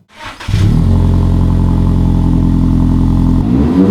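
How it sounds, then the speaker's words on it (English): Fourth-generation Toyota Tacoma pickup fitted with an AWE aftermarket exhaust cold-starting: a starter whir, then the engine catches into a loud, deep, steady high-idle rumble that drops off near the end, close to the tailpipe with no talk. "Here is the cold start with the AWE exhaust on the"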